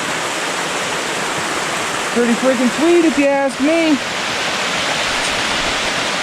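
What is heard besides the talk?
waterfall in Montana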